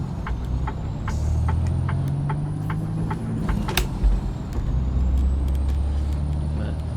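A truck in American Truck Simulator pulls away with a sharp air brake release, its low diesel engine droning and rising steadily beneath a few faint clicks.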